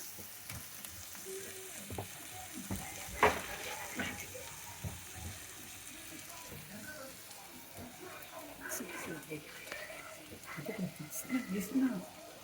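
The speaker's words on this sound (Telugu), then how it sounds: "ఆలుగడ్డ వేసుకొని కొద్దిగా మెదపనివ్వాలి" Potatoes are stirred in a pan of frying amaranth leaves, giving a soft steady sizzle with scraping stirs and a few louder clanks, under and between a voice talking.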